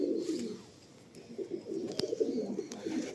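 Pet pigeons in a loft coo softly and continuously, a low burbling murmur with a few faint clicks and rustles around them.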